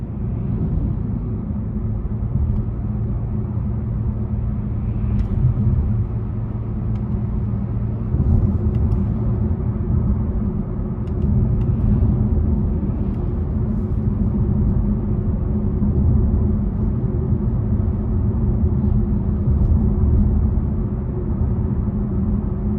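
A 2020 Buick Encore GX with the 1.2-litre turbo engine cruises down a back road, heard from inside the cabin as a steady low engine drone and road rumble at a constant level, with no talking.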